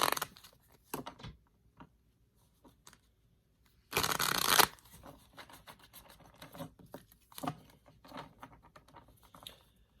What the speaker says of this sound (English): This deck is kind of difficult for me to shuffle, so I got to do it in little segments here.